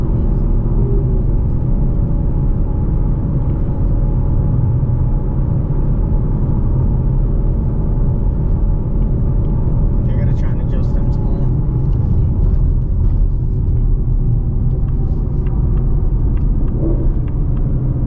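Ford Mustang GT S650 V8 engine shifting down through the gears inside the cabin: a steady, loud low rumble with small rises in pitch, and muffled talk under it.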